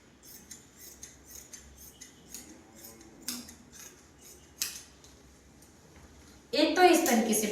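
Scissors snip tape on suit fabric in a run of small, quiet, evenly spaced clicks beneath a soft voice, ending in a louder burst of rustling and handling.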